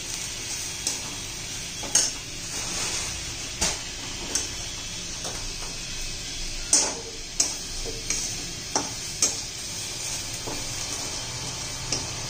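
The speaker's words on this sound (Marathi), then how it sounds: "आता आपण 1 चमचा बेसन पीठ घालूया. छान असं परतून घेऊन त्याचा कच्चेपणा घालूया." Gram flour stirred and roasted with capsicum in a pan: a steady low sizzle with repeated light scraping and tapping strokes of a spoon at an uneven rhythm, close and moderately quiet, no talking.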